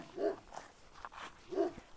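A dog, the sire of a Caucasian wolfhound-type line, barks twice at visitors on a rural property with beehives, each bark short and moderately distant, about a second and a half apart.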